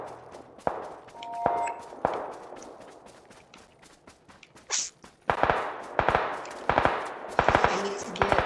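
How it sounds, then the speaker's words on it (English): Gunfire in PlayerUnknown's Battlegrounds: sharp, fairly distant shots crack out singly at first, then come in rapid bursts of automatic fire, with footsteps and a few clanks between. "There's some people shooting."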